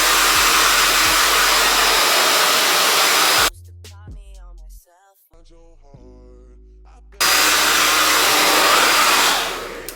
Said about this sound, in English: I find that it's best to blow dry upside down because it gives you the most volume